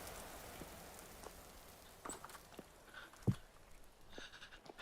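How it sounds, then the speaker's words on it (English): Soft steady rain patters across the ground in the survival game Vintage Story, a continuous low hiss with a few sharper drips and one louder knock near the end, heard alone without voices. "Raining again."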